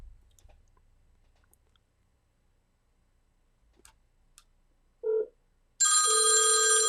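A cell phone sealed in a Faraday cage bag rings after a voice-assistant call is placed: a short muffled tone, then a loud, steady ringtone that continues to the end, with no talk over it.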